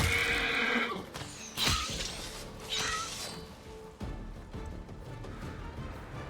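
A horse in Pathfinder: Wrath of the Righteous gives several loud, close whinnies and neighs, broken by crashing impact sounds and a few hoof clops.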